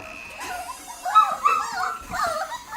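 Young puppies freed from a whelping box give soft, high whimpers and short yips, several brief cries close by in an indoor setting, with no talking.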